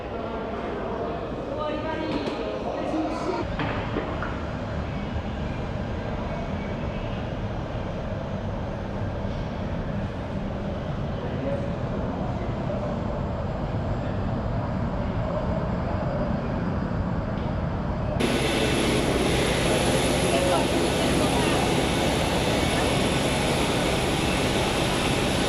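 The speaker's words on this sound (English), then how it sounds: "just watch planes take off and land until then" Airport ambience while waiting for a flight, with a continuous broad roar of aircraft engines that swells louder near the end, and people talking throughout.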